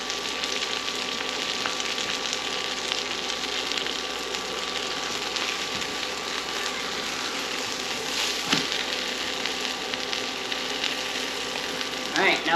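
A shrimp quesadilla sizzles steadily in a hot pan after being flipped, a soft, even frying hiss with faint scattered crackles throughout.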